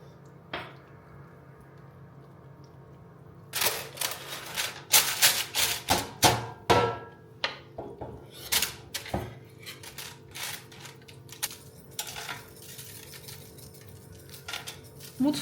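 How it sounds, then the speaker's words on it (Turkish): A knife chops chicken on a cutting board in a home kitchen, sounding as a loose run of sharp, close knocks and taps, some in quick clusters, others spaced out over a low steady room hum. "Tavuklarımı doğrayarak başlıyorum."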